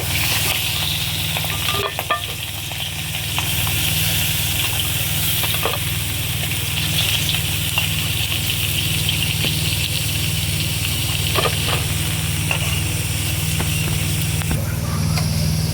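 Fish heads fry in hot oil on a gas stove, giving a continuous loud sizzle with a low steady burner hum and occasional stirring clicks.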